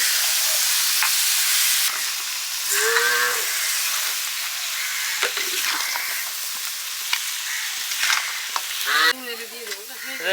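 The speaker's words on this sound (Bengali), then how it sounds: "খাসির মাথা দিয়ে কষা হচ্ছে মশলা ধোয়া জল দিয়ে দিচ্ছি" A goat head sautés in a pan with spices as spice-rinsing water is poured in for ghugni. A loud, hissing sizzle opens the clip, then softer frying and stirring scrapes continue, with occasional faint tonal calls in the background.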